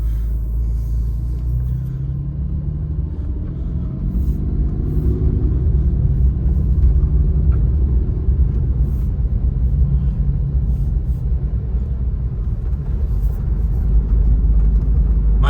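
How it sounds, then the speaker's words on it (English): A Porsche 911 Carrera 4S drives along a snowy road, its engine and tyre noise forming a steady low rumble that swells slightly partway through and holds at a constant, close level throughout. "we're driving a Porsche 911 Carrera 4S"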